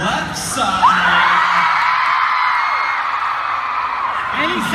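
A convention panel audience screams and whoops in a loud, sustained burst lasting several seconds, a wall of excited voices that swells and holds, with a brief yelp near the start.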